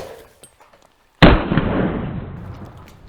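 A shotgun blast hitting a watermelon outdoors on a sunny day at a high-speed filming range: a single sharp, loud boom strikes suddenly, then fades into a long rumbling, crackling decay.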